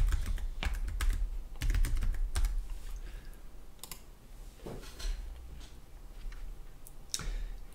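A password typed on a computer keyboard, with quick irregular bursts of clicky keystrokes and short pauses between groups, close and clear with no talking.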